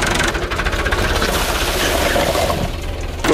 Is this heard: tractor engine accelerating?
yes